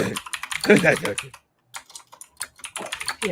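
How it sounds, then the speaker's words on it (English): Rapid clicking of typing on a computer keyboard, close and busy, with a short pause midway and a voice briefly speaking over the first part. "typing."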